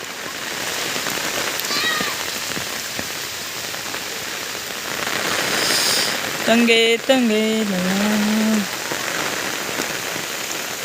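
Steady first-of-season rain patters on a surface in a Konkan village throughout, with a short spoken phrase and a brief animal-like cry partway through.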